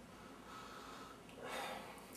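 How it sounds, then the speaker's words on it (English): A person sniffs a glass of beer: one soft, brief inhale through the nose, faint and close, in a quiet room without speech. "first I want to give it a sniff"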